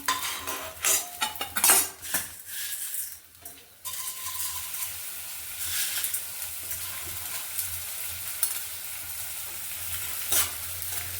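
Edible gum (gond) roasting in a pan while being stirred with a metal spoon, with clattering scrapes and clinks at first, then a steady soft sizzle with intermittent stirring knocks, close up and no talking.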